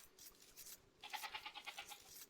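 Sheep bleating in a strategy video game, several short wavering calls in a row, fairly near and clear with no talk over them.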